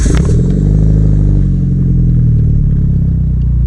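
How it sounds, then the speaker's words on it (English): A car with a downpipe, resonated test pipe and catback exhaust being driven: a loud, deep exhaust drone close by, with revs climbing and then dropping to a steadier rumble partway through. "we're gonna go for a little drive. That way you guys can hear the exhaust, downpipe, resignated test pipe, and just a catback exhaust"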